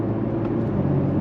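Porsche Macan GTS with a 360-horsepower engine, a steady, loud low drone running continuously while the car drives and shifts through its gearbox, no voices over it.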